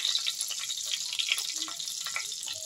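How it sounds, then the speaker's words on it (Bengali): Whole cumin, bay leaves and dried red chillies sizzle in hot mustard oil in a pan, a steady close crackling hiss with no one talking. "এবার আমি ফোড়নটাকে খুব ভালো করে ভেজে নিচ্ছি"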